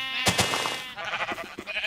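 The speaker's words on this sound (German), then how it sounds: "Aber wir könnten die Schafe töten." Sheep in the video game Minecraft bleat twice in quick succession, loud and close, followed by softer game noises.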